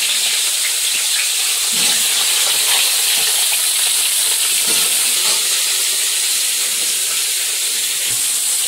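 Puti fish frying in oil with potatoes, a loud, dense, unbroken hiss of sizzling oil with faint crackles and spits, heard close and alone.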